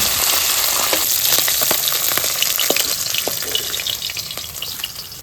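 Pabda fish fry in hot oil in a pan, giving a loud, crackling sizzle with sharp pops and spits throughout. The frying eases slightly toward the end, and no one speaks.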